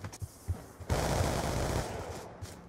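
Rapid automatic gunfire in Black Ops 2 brings down a hostile UAV: a few single shots, then a dense, loud sustained burst of fire that fades into scattered shots.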